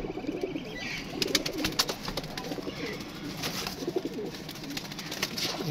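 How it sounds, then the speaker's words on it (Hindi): Pigeons coo repeatedly in a loft where birds are bred as paired stock, with soft overlapping calls and some wing flutters and rustling throughout. "जी दोस्तों ये चपड़ी के साथ ये लगा हुआ कबूतर जी।"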